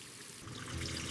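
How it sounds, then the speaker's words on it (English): Water runs steadily from a tap into a kettle in a home kitchen, a continuous close pouring and trickling that grows slightly fuller as the kettle fills, with no talk. "I fill the kettle with water."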